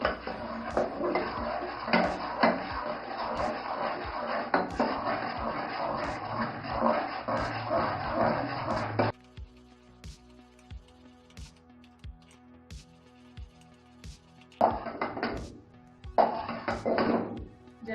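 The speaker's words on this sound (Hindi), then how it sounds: "खुश्क दूध इसमें शामिल कर दें और साथ में चम्मच चलाते रहें।" A spoon stirs sugar and milk powder in a pan, with frequent clinks and scrapes against the metal over a busy cooking background, then a quieter stretch of sparse taps before two short bursts of stirring return.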